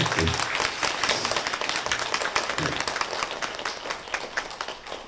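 A church congregation applauds during a Sunday morning worship service: brisk, fairly close clapping from a modest group that holds steady for several seconds and thins slightly toward the end, with a bit of speech mixed in.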